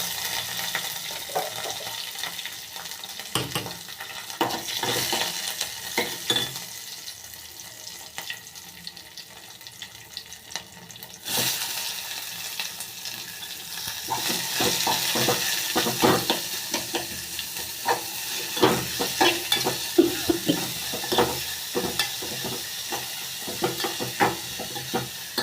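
Mustard seeds and curry leaves crackle and splutter in hot oil in a pan while tempering for moong dal cucumber kosambari, a dense continuous sizzle with stirring clinks, close and fairly loud, no talk.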